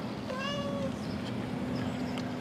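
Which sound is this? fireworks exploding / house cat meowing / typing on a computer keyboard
house cat meowing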